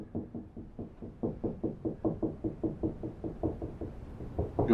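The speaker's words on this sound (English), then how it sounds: "So as you tap along the wall," Knuckle tapping along a wall to locate studs makes a steady series of dull knocks, about four per second, close and moderately loud with slight changes in tone.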